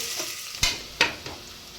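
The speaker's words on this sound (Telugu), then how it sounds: "ఉల్లిపాయలు అయితే వేసుకొని బాగా ఎర్రగా అయ్యేటట్టు ఫ్రై చేసుకోవాలి" Onions fry in hot oil for mutton pulao, a soft sizzle broken by two or three sharp scrapes of a spoon against the pan, close and brief.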